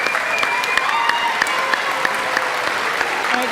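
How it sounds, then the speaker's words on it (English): A crowd claps for students at an eighth grade school recognition ceremony, a full, steady round of applause with scattered sharper claps poking out above the wash, fairly loud throughout. "let's give them another round of applause, please."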